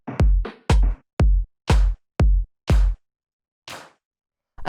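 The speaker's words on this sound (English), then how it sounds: "So we have this rim shot." Rim shot drum samples in a house beat: six sharp, dry hits in a quick, slightly uneven rhythm, each with a short low thump, then a gap and a softer hit near the end.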